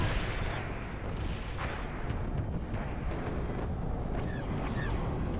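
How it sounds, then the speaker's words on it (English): Artillery fire pounds through a Star Wars WARNO battle, a dense, continuous rumble of blasts and booms with sharper cracks scattered on top, loud and sustained from start to finish. "the artillery is on point from the enemy"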